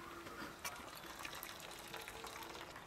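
Water pours steadily over fresh chhena held in a cotton cloth, rinsing the curds with a soft continuous gush and trickle, fairly faint, with no voices.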